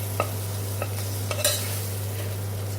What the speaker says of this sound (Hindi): अब इसमें मिलाएंगे कुटी हुई अदरक, लहसुन। इसे भी भून लेंगे 1 सेकंड के लिए।